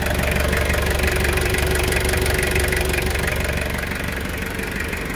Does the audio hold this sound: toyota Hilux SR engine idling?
yes